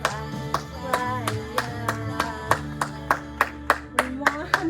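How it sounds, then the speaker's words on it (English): Children at a preschool storytime clap along with a song, roughly two sharp claps per second in a steady beat over music and singing. "Everybody clap, clap, clap, clap, clap, clap"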